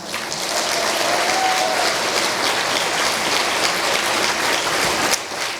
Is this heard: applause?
yes